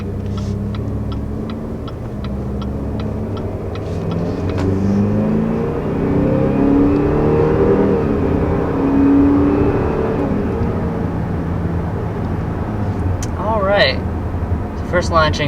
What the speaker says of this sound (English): First launching up to about 60 miles per hour right there in the brand new 2-liter turbo XT5.